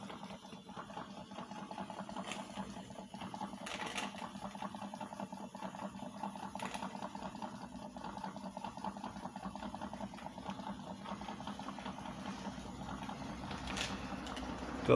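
A live steam model engine runs steadily on a rolling road, with its exhaust, drain cocks and safety valve venting under the deck. It gives a continuous mechanical chuffing hum with light hissing and a few brief sharp ticks, and nobody speaks.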